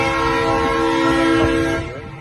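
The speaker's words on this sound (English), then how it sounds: "Check out the train." A train rolling past near Poconos, Pennsylvania, sounding its horn in a sustained multi-tone blast over rumbling wheels, loud and close, then tapering off as it moves on.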